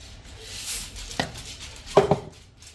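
Dry cereal is tipped into a bowl of cookie dough, a soft pouring rustle followed by a few sharp crunchy clatters near the end, close and fairly quiet with no talking.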